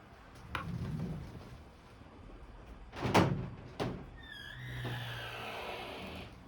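A room door opens with a few knocks and rattles as a cat pushes its way in, followed by a creaking, sliding movement, fairly close in a quiet indoor space with no talking.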